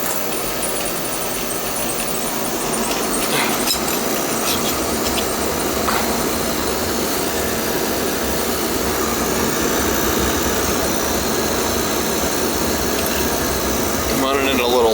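An oil furnace burner with a delayed oil valve lights in the home of an elderly woman who had no heat, settling into a loud, steady, close roar that holds without a break.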